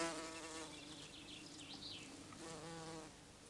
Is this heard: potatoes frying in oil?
no